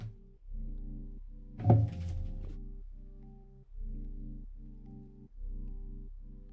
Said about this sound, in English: my cat just slams into my microphone stand